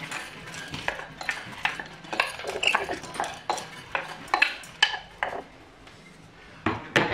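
Soaked black urad dal goes into a pressure cooker, heard as a run of close, sharp metallic clinks and scrapes of a spoon against the pot with brief rattling pours, irregular and fairly loud.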